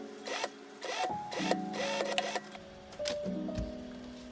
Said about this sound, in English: Sew the joining seam and add decorative top stitching from the right side.